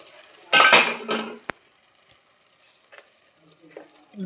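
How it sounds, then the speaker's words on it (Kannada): A lid goes onto a cooking pan of cucumber palya, a close metallic clatter and scrape followed by a single sharp clink, then faint small knocks. "ಸೊ ಲಿಡ್ಡನ್ನು ಮುಚ್ಚಿಡಿ"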